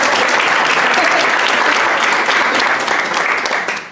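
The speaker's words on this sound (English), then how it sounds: "Give a round of applause, okay?" Dense, loud applause from a crowd at a property investment meetup, a continuous wash of many hands clapping at once, holding steady throughout and tapering only at the very end.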